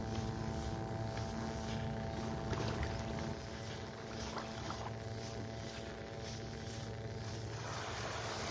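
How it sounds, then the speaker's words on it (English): A helicopter drones steadily with a low rotor hum, still some distance off and approaching along a beach in North Naples, Florida, under wind and surf noise. "I hear that noisy helicopter heading up my way here"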